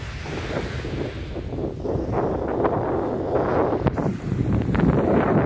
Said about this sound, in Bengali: এই বিচটার নাম হচ্ছে আগাথি ওয়েস্টার্ন সাইড বিচ।